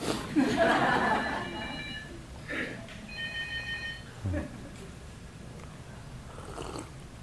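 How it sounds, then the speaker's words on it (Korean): A telephone rings with a few bright, repeated electronic trills during a Buddhist lecture, heard fairly close amid light room noise and a brief chuckle, with no clear speech over the ringing. "전화 왔습니다."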